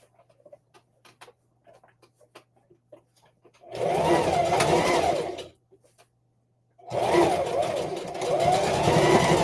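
A sewing machine runs over the strap seam of a fabric tote bag in two loud, close bursts of whirring stitching, separated by quiet pauses with faint handling clicks.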